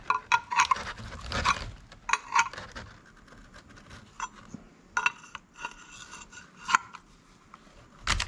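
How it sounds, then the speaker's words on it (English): A 3/4 inch wrench tightening bolts on a spin-on transmission filter housing for an Isuzu NPR 6L90E, close metallic ratcheting clicks and scraping in irregular bursts separated by quieter gaps, no talking. "I'm using a 3/4 inch size wrench"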